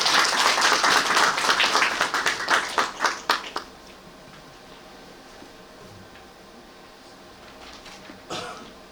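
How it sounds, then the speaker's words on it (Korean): An audience at a forum on the semiconductor industry claps for a few seconds; the applause thins into scattered, separate claps and fades to near silence, with one faint sound near the end. "큰 박수 부탁드립니다."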